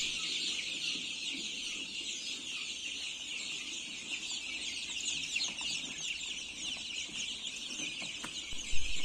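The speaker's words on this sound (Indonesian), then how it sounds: "anak ayam KUB2 ini berebut untuk makan" A crowd of 21-day-old KUB-2 chicks peeping and clucking busily as they scramble for feed, a constant high chatter with faint scratching and shuffling underneath.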